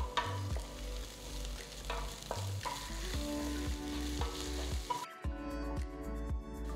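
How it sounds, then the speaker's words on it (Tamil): Onion, ginger-garlic paste, chopped green chilli and curry leaves sauté in a pan with soft sizzling and scattered spoon clinks and scrapes, fairly quiet, with a brief quieter stretch toward the end and no talking. "அப்புறம் 1 பச்சை மிளகாய் நறுக்கினது, கொஞ்சமாக கருவேப்பிலை சேர்த்து வதக்குங்க."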